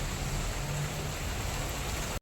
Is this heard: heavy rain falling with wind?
yes